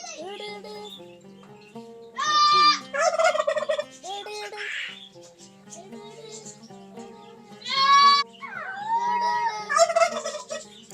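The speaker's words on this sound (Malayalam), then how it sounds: "ഇതാ അവിടെ മയിലും ഉണ്ട്." At a desert farm where deer and pigeons are kept, loud bird calls ring out in several bursts, some harsh and some with wavering, rising tones, close by and repeated with short gaps.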